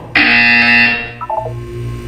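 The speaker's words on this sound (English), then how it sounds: "When you hear the buzzer, look down at the floor." A loud electronic buzzer from the video game Portal 2 blares steadily for about a second, then a few short, quieter beeps follow over a low background hum; no one speaks.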